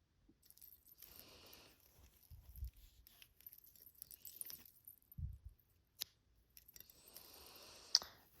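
Scissors snipping crochet yarn at the end of a slip-stitched hanging plant holder, heard as a few quiet close clicks and snips amid soft rustling and handling noise, faint overall with no talking.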